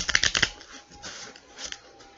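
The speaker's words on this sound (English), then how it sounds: "if you don't want to watch me shuffle" Tarot cards are shuffled by hand in quick riffling bursts, a crisp papery flutter up close, followed by softer intermittent card slides and taps.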